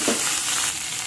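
Garlic and corn fry in a pan for sweet corn tomato soup, a brief, close, steady sizzle with a crackle at the start and no voices.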